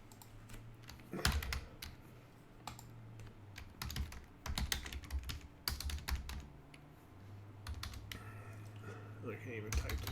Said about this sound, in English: I can't even type today.